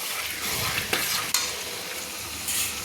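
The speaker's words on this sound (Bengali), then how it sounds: "চিকেনটাকে যে তেলের মধ্যে কষিয়ে নিচ্ছি" Chicken stir-fried in oil for Chicken Kanti gives a steady, loud sizzle, with occasional scrapes and clacks of a spatula stirring in the pan, close up and with no voices.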